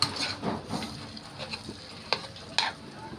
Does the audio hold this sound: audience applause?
no